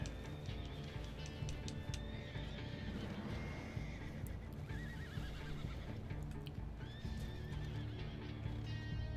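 A horse neighs loudly in Red Dead Redemption 2, with clip-clopping hooves and a steady, busy game soundscape underneath.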